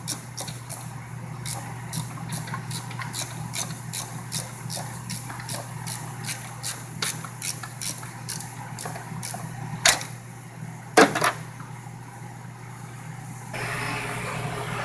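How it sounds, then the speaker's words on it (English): A loud home furnace running in a garage, a steady low hum and hiss underneath a regular series of sharp mechanical ticks, followed by two louder clacks and a shift to a smoother rushing tone near the end. "sorry about my furnace, it's loud"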